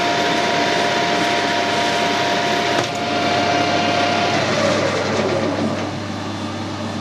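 A machine tool turning hard steel at 1000 RPM in a home workshop, cutting cleanly and breaking chips, gives a steady loud whirring hum with a sustained tone that dips and falls away partway through.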